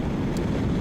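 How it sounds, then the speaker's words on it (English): Strong wind buffets the microphone of a BOOM BD125-2 motorcycle on a highway in a dense, low roar, steady and close for under a second. "it is windy"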